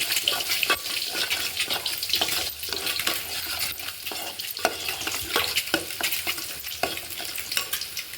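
Fried eggs are tipped into a cooked masala curry and stirred, a dense wet sizzle with repeated spatula scrapes and knocks against the pan throughout, close and loud, with no voices.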